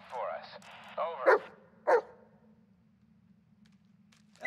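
Dog barking in the video game Blair Witch: a few sharp barks and yips up close, with a whimpering tone early on, over a low steady hum, then quiet.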